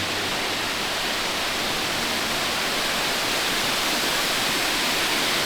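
A waterfall in the Carolinas sends up a steady, dense rushing roar that fills the whole stretch without pause, with no voices over it.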